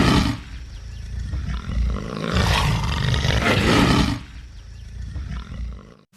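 A black panther in the film Apocalypto gives a loud, close, sustained guttural roar that swells to a peak and then fades over several seconds, with no talking.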